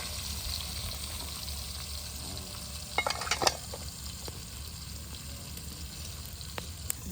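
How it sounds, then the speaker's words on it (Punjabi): Onions dropped into hot oil in a pan frying and sizzling in a village kitchen while beef and bitter gourd are cooked, a steady hiss with a few brief crackling bursts and clatters near the middle. "ਜੀ ਹੁਣ ਪਾਵਾਂਗੀ ਪਿਆਜ਼"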